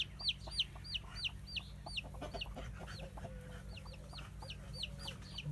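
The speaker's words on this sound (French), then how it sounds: "Voilà la maman poule." Repeated soft clucking from a hen alongside high, thin peeping chirps from a chick, steady and close, over a low background hum.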